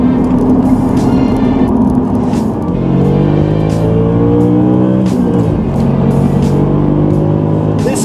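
Audi RS4 B7 with its naturally aspirated engine pulls hard under acceleration, loud rising engine tones dropping sharply at each gear change, clearly audible shifts at about 2.5 and 5.5 seconds before climbing again.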